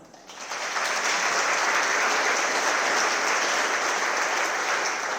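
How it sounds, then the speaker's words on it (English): A crowd at an evening public program on democracy claps loudly, applause swelling quickly and holding steady and dense throughout. "I think all of you deserve a round of applause."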